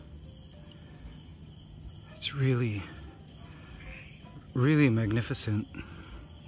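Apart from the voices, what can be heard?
crickets and insects in forest at night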